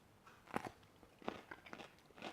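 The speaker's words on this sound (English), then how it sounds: "the half sour pickle's nice and crispy and crunchy" Half-sour fermented dill pickle being bitten and chewed, several quiet crisp crunches spaced irregularly, close up and faint, with no talking.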